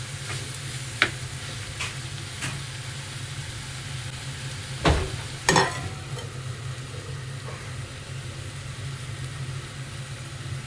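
Mutton liver is sautéed and stirred in a pan, giving a continuous low sizzle with occasional sharp clinks and scrapes of the spoon against the pan, nobody speaking.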